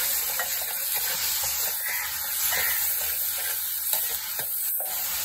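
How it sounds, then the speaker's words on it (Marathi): Green masala paste fries in a pan with a steady, fairly faint sizzle and hiss, broken by occasional stirring scrapes. "छानपैकी आता फ्राय करून घ्यायचं"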